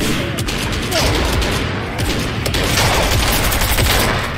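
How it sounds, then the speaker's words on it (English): Rapid gunfire in the video game Fortnite, a dense continuous burst of overlapping shots and impacts that runs loud and close the whole time with no gaps. "somebody just shot me in the back of the head with that"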